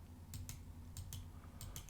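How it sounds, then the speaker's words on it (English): Key presses on a computer keyboard, three quick pairs of soft clicks spaced evenly across a short, quiet stretch. "you go to the keyboard and you press the letter D"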